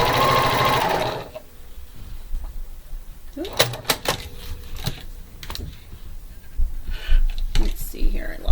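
A sewing machine stitches a quilt block in a brief, loud, close whirring run lasting about a second, followed by quiet handling clicks, knocks and rustling.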